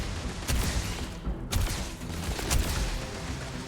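Gunfire from a planet-side gun in Starfield rings out in several sharp, booming shots spaced irregularly across the stretch, each followed by a short tail, over a dense background of game noise.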